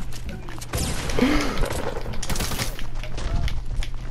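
Rapid gunfire from dual pistols in a video game crackles in dense bursts amid game noise, while an excited voice talks over the shooting.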